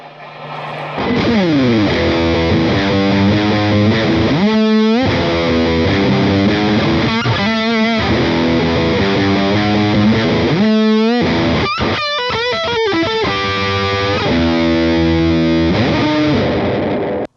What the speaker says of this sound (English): Let's see how much gain this thing does have on tap